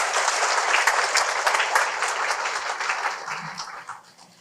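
Dense, loud audience applause for Mary Ann Mize at a scroll collection event, sustained and then fading out toward the end, with a brief voice near the close.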